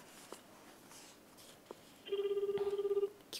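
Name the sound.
telephone ringing while a call is connected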